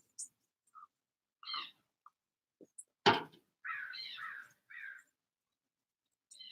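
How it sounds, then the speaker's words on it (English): Crows or ravens patrolling a street give several short caws, scattered and fairly faint against a quiet background, with one louder harsh call near the middle followed by a drawn-out cawing burst. "the ravens and crows kind of patrol the street"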